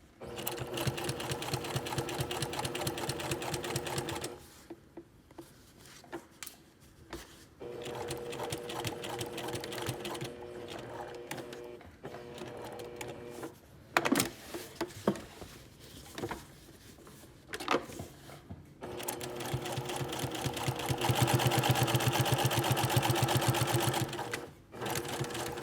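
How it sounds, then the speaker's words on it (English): A home sewing machine edge stitches a casual shirt in several loud, steady runs of rapid whirring, broken by brief pauses and soft handling noises, with no voices. "I'm nicely lined up to keep my edge stitching consistent."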